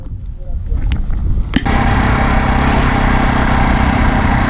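A Jawa Perak motorcycle engine bursts into a loud, steady, throbbing drone after a sharp onset, running close by at an even idle.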